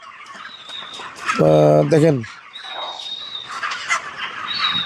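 Broiler chickens on a farm hit by bird flu cluck and call in a flock. A loud, drawn-out, harmonic call rises briefly mid-clip, and a person says a word over the birds.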